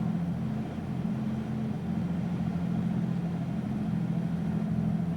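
The left engine of a Carenado Baron 58 twin-engine plane in X-Plane 11 runs steady during a magneto check, with a constant low, droning hum and no audible drop.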